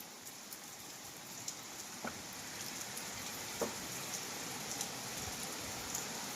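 Heavy monsoon rain falls in a steady, even hiss, with occasional louder drops tapping nearby surfaces, fairly soft and continuous with no voices.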